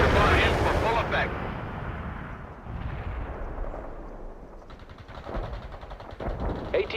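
Artillery and gunfire in the real-time war game World in Conflict: a heavy blast opens the clip, then more bursts and rumbles follow at a distance while radio-style voices talk over the battle.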